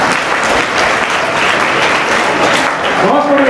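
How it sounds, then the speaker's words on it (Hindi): Audience applause at a school admission festival and prize-distribution ceremony, sustained and loud for several seconds, with a voice speaking over the clapping near the end. "अरे तालियां हो,"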